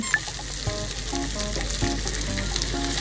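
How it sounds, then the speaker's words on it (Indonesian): Sausage frying in a pan, a steady close sizzle with scattered crackles and pops throughout, no voices. "Kemarin aku masak sosis gak kayak gini"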